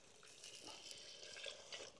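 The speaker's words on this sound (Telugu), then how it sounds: "వేడి నీళ్ళు పోసుకోవాలి" Hot water poured into a pot of spicy mutton curry on a farm: a faint, continuous splashing and trickling liquid sound with small gurgles, quiet and steady throughout.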